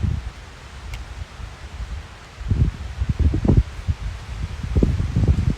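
Wind gusts push through tree leaves in uneven bursts of rustling, with low rumbling wind noise on the microphone.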